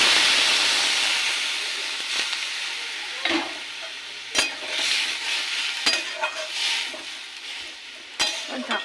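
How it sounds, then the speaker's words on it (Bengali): Water hits a hot pan of frying potatoes and ridge gourd, setting off a loud, steady sizzling hiss that slowly fades, broken by a few sharp clinks and stirring knocks. "এবার দিয়ে দেবো জল।"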